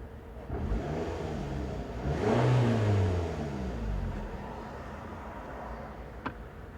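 A Scion xB engine idling after its dirty throttle body was cleaned, a steady low mechanical hum that swells briefly as the revs rise, then settles back to a smooth, even idle, with a single short click near the end.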